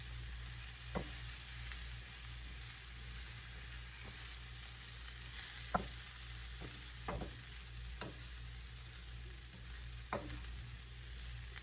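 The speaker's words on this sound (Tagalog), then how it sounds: "Kaya lang madali siyang lutuin dahil manipis yung hiwa niya." Thinly sliced lamb gyro meat fries in a pan with a steady soft sizzle, broken by occasional faint clicks and scrapes of stirring. The sound is quiet and there are no voices.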